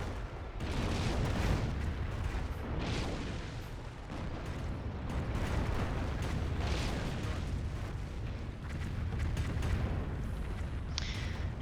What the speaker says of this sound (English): Calliopes and Airburst now making their lives miserable.